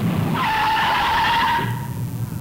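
Car tires skid on dry pavement, a loud, tonal squeal that holds steady for just over a second and then cuts off, heard in a 1968 16mm driver's education film.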